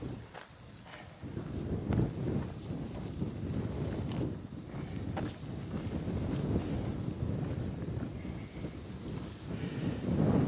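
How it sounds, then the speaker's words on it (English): A light breeze blows across an open hilltop stretch of the Continental Divide Trail, a steady, close rushing hiss buffeting the microphone, mixed with faint footsteps and no voices, holding constant for the whole stretch. "the light breeze that's blowing is keeping things just a little bit cooler"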